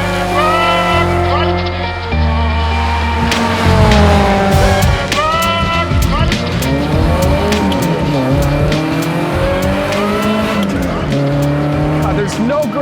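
A loud BMW E30 M3 race car engine on a racetrack revving hard and shifting through gears, pitch sweeping up and down, with tire squeal and skidding close by.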